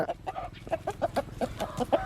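Chickens on a farm clucking close by in quick, uneven bursts, several birds overlapping in a busy rhythm, with no speech over them.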